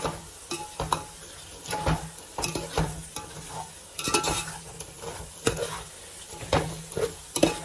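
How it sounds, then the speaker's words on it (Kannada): Chicken for a dum biryani fries in a pan over a medium flame, with a soft steady sizzle and repeated scraping stirs of a spoon against the pan, close by and without any voices. "ನೀವು ಮೀಡಿಯಂ ಫ್ಲೇಮ್ನಲ್ಲಿ ಇಟ್ಕೊಂಡು ಒಂದು 10 ಮಿನಿಟ್ಸ್ ಚೆನ್ನಾಗಿ ಫ್ರೈ ಮಾಡಿ"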